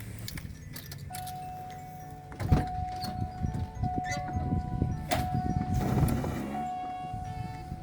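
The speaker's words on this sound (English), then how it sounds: "I need to remember to put my windows up first because I don't want to fill the car with water" Electric windows on a 1987 Buick Grand National run up with a steady motor whine, joined by scattered clicks, clinks and a few mechanical thumps close by inside the car.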